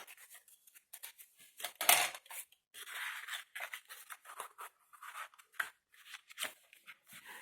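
Scissors snip through paper corners and trim tabs on a handmade mini album, a run of short crisp cuts with small squeaks, close and fairly quiet, with no talking.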